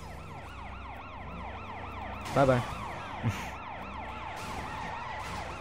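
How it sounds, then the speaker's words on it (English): Wailing police sirens in the open-world action game Sleeping Dogs, a loud rising-and-falling electronic siren sweeping steadily throughout, with a brief voice and a couple of short thumps partway through. "Let's turn off the sirens."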